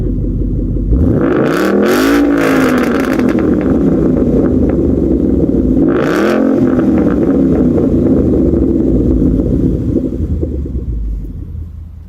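A truck engine warming up, revving hard twice with deep rising sweeps at about 1 and 6 seconds, then settling into a loud, steady rumble with no talking.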